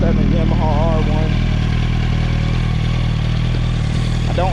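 A 2007 Yamaha R1 sport motorcycle engine running loud and close, a constant throbbing drone with steady pulsing harmonics throughout while a rider's voice talks over it.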